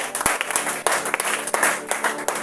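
A church congregation applauds during worship, with a dense, close burst of rapid, continuous clapping from many hands.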